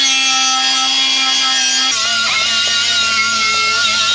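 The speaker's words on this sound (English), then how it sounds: "Finish up the inside with this die grinder." A die grinder fitted with a Brillo pad whines loudly and continuously while scrubbing the inside of a Griswold #6 cast iron pan, with the tone dropping slightly partway through as it bears down on the metal.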